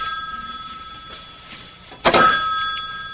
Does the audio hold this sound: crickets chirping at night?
no